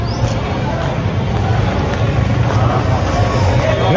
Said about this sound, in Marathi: पण तरी गर्दी आहेच इथं